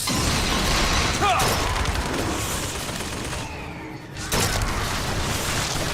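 Gunfire in the first-person shooter Bioshock Infinite, dense rattling shots and booms running almost continuously, briefly dropping away before resuming loudly.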